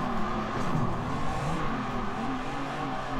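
A BMW engine revs steadily in the racing game Assetto Corsa, a continuous droning motor with wavering pitch that sits at moderate level behind the player, without speech.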